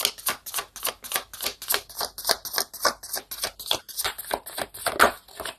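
Rapid, rhythmic riffling and slapping of tarot cards being shuffled during a love reading, about three crisp bursts per second, close and steady, with no talk over it.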